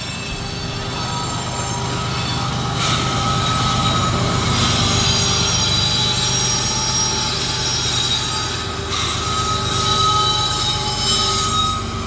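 Freight train wheels squeal continuously as the cars roll through rail switches, a loud sustained metallic screech over steady rumbling and clatter, with no talk.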